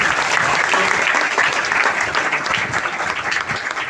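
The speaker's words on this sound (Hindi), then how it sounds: "सारे जिद्दी लोगों के लिए एक बार जोरदार ताली होनी चाहिए" Loud, dense applause from an audience at a Mi Lifestyle Marketing Global business gathering, sustained evenly for about four seconds with no break.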